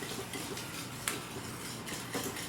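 Egg being stirred into lemon drizzle cake batter in a bowl, with soft intermittent clinks and ticks of a utensil against the bowl, quiet and close, with no voices.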